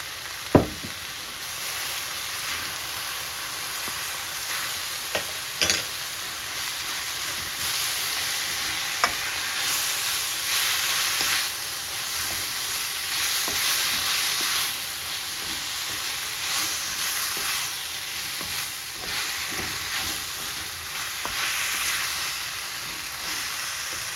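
Food stir-frying in a wok with oyster sauce: a steady, close sizzle and hiss throughout, broken by occasional sharp clicks and scrapes from stirring, with no talking.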